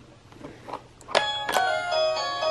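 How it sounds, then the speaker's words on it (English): A light-up toy doorbell that plays Christmas carols is pressed. A couple of soft clicks come first, then bright, close chiming notes ring out in a short melody. "It lights up when you press the doorbell."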